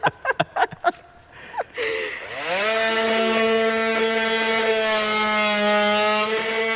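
During a caravan renovation, a few sharp knocks and clicks, then a power tool whirs up and runs with a loud, steady motor whine until the end.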